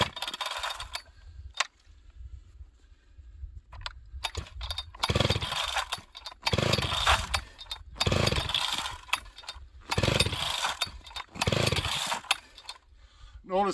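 A stock, high-compression chainsaw being started in sub-zero cold, around minus 25: repeated sharp pull-start bursts and sputtering catches separated by short gaps, close and loud, then running briefly toward the end.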